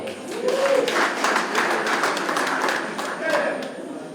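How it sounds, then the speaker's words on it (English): A hall crowd at an awards event gives a dense round of clapping that swells and holds for several seconds, with voices calling out over the applause. "we have to give them a hand of a clap"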